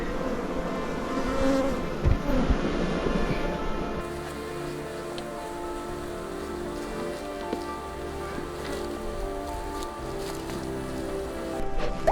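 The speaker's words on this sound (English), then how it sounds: "There's a lot of bees in this lid." Honeybees swarm thickly inside a hive lid during a hive inspection, making a steady low buzz with a few sharper bumps and clicks of handling over it.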